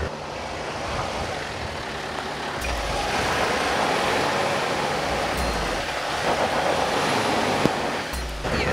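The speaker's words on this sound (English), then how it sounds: "Now we can't go any further, you can hear the wheel spinning." Steady loud roar of a Mahindra Thar stuck on a steep off-road slope in 2H, engine and spinning wheels grinding continuously with a broad rumbling hiss, close up and without talk.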